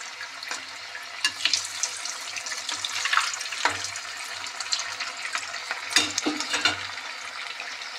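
Vegetable pakoras frying in oil in a pan over a low gas flame, giving a steady soft sizzle and crackle with occasional bursts as pieces are moved, close and moderate in level, with no talk.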